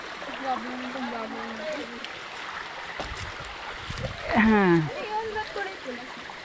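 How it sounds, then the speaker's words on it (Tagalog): Water of the Bakawan river flows steadily beside people talking and laughing, a continuous wash of current running under their voices. "Ito guys, ang ilog ng Bakawan."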